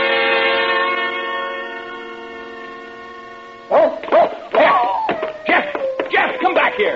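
In an old suspense radio drama, a long, steady horn-like tone gives way to a run of sharp, close dog barks mixed with voices.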